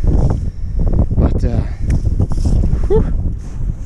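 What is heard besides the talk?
strong wind blowing over a reservoir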